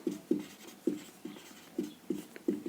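Chalk taps and scrapes on a board as charges Q1 and Q2 are written out, forming a steady series of short, close strokes about every half second in a quiet room.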